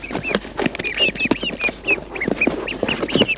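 Young ducklings peeping nonstop, a dense chorus of high chirps and soft quacks close by on a farm.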